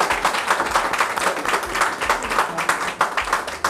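Audience applause for contestant Nana on a televised legal quiz show: a dense, continuous burst of many hands clapping, loud and close, with no voices over it.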